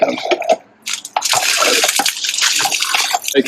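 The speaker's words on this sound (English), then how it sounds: "I do have a Sandpoint well pump there, which I can get some water out of" Water gushing from a hand-operated Sandpoint well pump in a garden, starting with a few splashes, a brief pause, then a strong continuous pour splashing loudly close by.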